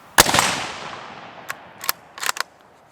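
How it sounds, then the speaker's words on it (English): A Ruger American Scout rifle fires one sharp, loud shot at a steel plate, and its report decays quickly, followed by a few quieter clanks and clicks. "We're going to start off on the right side over here with that red plate next to the silhouette."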